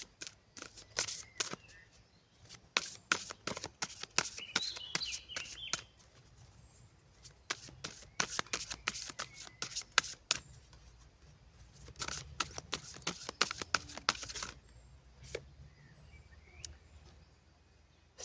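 Oracle cards are shuffled in quiet bursts of soft, papery flicks and riffles. Short clusters with pauses between them are heard close against a faint, hushed background.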